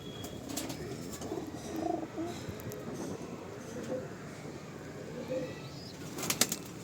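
Young pigeons coo softly in a loft, with several low, rounded coos spaced through the quiet and a brief flutter of wings near the end.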